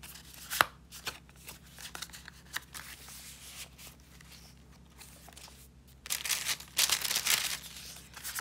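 Papery riffling and rustles as pages of a handmade paper journal are flipped, soft scattered crinkles early on and louder, fuller flurries of page turning near the end.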